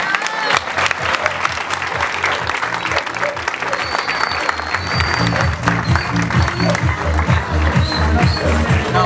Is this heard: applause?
yes